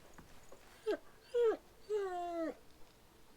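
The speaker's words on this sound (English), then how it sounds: "It looks up when you approach and whines a low note, tail wagging slightly." A hound in the video game Pillars of Eternity whines in three short, rising-and-falling tonal moans, the last one longest, fairly close against a quiet background with no talk.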